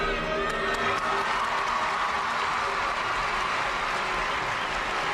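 A rowdy crowd at a gymnastics competition roars in a steady, loud wash of cheering and clapping that fills the whole stretch without a break.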